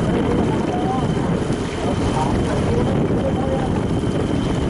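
Steady wind rushing and buffeting past the microphone on a boat at sea, with a broad low roar that continues without a break.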